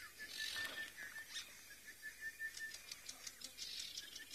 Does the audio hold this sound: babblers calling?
yes